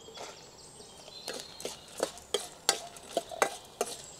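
Coriander seeds and dried red chillies dry roasting in a pan for sambar powder, heard as a series of sharp scraping and clattering strokes of a spatula, irregular but growing more frequent, close and moderately loud.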